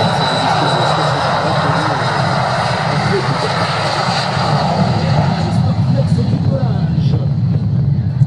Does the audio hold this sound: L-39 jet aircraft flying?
yes